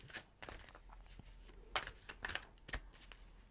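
Fairy tarot cards are shuffled and drawn, several soft close flicks and papery slaps scattered over a few seconds, faint against a low steady hum.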